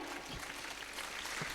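Audience applause at a Jain religious discourse gathering, a dense, steady wash of many hands clapping together throughout, with no breaks.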